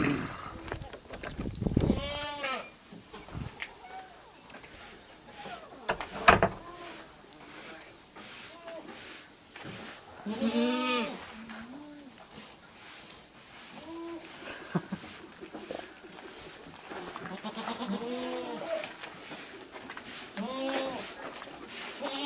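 Baby goats on a goat farm let out several high, wavering bleats at intervals, fairly faint, while people talk quietly nearby.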